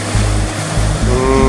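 Ocean swell breaking at a surf point on a cool morning with a light offshore wind, a loud steady wash of surf with rolling low thuds as waves crash nearby.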